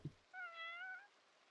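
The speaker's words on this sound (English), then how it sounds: "Are you meowing a lot?" A single clear meow from a cat in a Project Zomboid kitty run, a short, faint, tonal call lasting under a second and heard alone against quiet.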